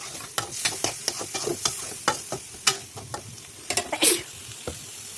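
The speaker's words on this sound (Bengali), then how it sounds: "মাছটা দিয়ে দিলাম, দিয়ে দেওয়ার পর ভালো করে নাড়াচাড়া করে দিবেন।" Fish pieces are stirred in a frying pan with spices, sharp scraping strokes of a utensil against the pan coming in an irregular rhythm over a soft sizzle, close and clear with no talking.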